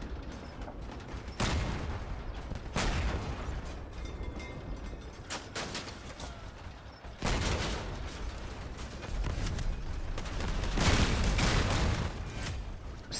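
Heavy gunfire in the vehicle combat game Crossout pounds out as repeated loud blasts and booming volleys over a rumbling battle background, with no talking.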